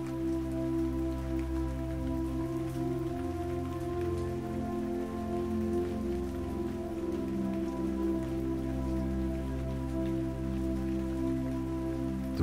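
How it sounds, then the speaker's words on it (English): Steady rain falling on pavement, a dense even patter that stays constant and fairly loud for the whole stretch with no voices. "The rain is coming down harder now, the drops hitting the pavement with a gentle patter."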